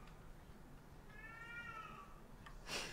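A cat meows once, faint and fairly distant, over steady background hum during a GTA V roleplay session, followed by a short noisy thump.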